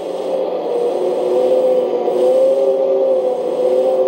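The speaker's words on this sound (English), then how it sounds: "Spinning engine sound." A continuous whirring motor drone with a faint rising tonal whine from a HUINA Kabolite K970-100S 1/14 hydraulic RC excavator, steady and close, holding level for several seconds.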